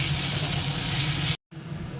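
Vegetables, pointed gourd among them, sizzling steadily in a hot pan, a dense continuous frying hiss that drops out briefly for a moment, then resumes slightly quieter.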